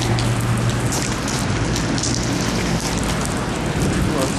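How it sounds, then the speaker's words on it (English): Steady rain falls outside on a street, a dense continuous hiss of drops spread evenly across the whole stretch with no breaks, fairly loud and close. "A little rainy outside."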